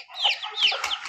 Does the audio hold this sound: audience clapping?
no